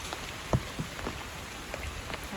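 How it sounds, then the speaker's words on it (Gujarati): Soft patter of light rain with scattered individual drops tapping nearby, quiet and irregular. "વરસાદ ધીમો ધીમો ચાલુ છે"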